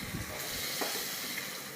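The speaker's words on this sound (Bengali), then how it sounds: "এবার ওই তেলেই আলু আর কচুটা আমি ভেজে নেব" Potato and taro pieces fry in hot oil, giving a short, continuous, fairly quiet sizzle heard alone.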